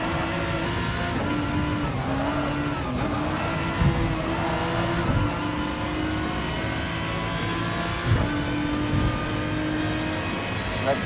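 Race cars, including a GT3 car, drone steadily around a city circuit in Gran Turismo, engines holding a continuous loud tone with shifting pitch, while a voice talks over the top.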